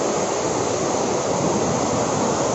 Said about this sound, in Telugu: వాటర్ ఫాల్స్ అయితే చూస్తున్నాము, చాలా పెద్దగానే ఉంది చూస్తున్నారు కదా.